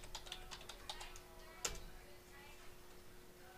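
Computer keyboard being typed on to enter a system file check command in Windows, a quick run of light key clicks followed by one sharper keystroke, then quiet room hum.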